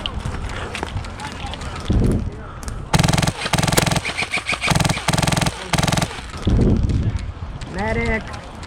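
Airsoft light machine gun fire on a rooftop game field: several rapid full-auto bursts, close and loud, broken by short pauses, with players shouting and talking between bursts.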